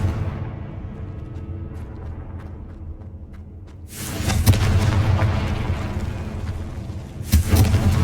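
The Confringo fire spell explodes in the video game Hogwarts Legacy. After a quiet low rumble, a loud boom erupts and sustains, then a second burst hits near the end.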